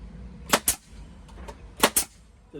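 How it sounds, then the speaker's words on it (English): A DeWalt nail gun fires four sharp, close cracks in two quick pairs, each shot followed by a short clatter, with a small compressor's low hum underneath. "having a nail gun and a little compressor is really"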